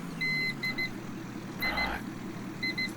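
Electronic alarm from the farming video game Farming Simulator-style play session, repeated short bursts of high beeping in groups, steady and clear over a constant low engine-like hum.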